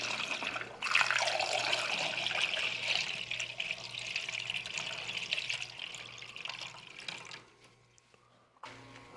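Green coolant poured from jugs into a Cummins-powered Farmall M tractor, a steady close gurgling, splashing stream that runs for several seconds and then tapers off to a trickle before stopping.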